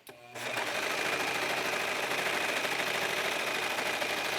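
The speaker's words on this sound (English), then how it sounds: "using the serger, I'm binding those seams together and hoping to stop some of the shedding and the fray" A serger sewing machine runs steadily as it binds the seams of a fabric hooded cape to stop shedding and fraying, its fast, even mechanical whir starting after a short pause and holding close and loud throughout.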